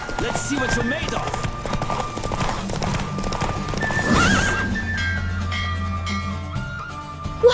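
A horse racing in The Witcher 3 gallops with close, rhythmic hoofbeats and lets out a loud whinny midway, as music plays and voices talk over the action.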